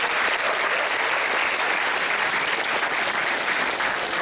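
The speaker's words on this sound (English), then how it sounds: "So everybody a big smile and a big round of applause," Dense, loud applause fills an auditorium with semicircular seating at a keynote session, an unbroken wash of many hands clapping throughout.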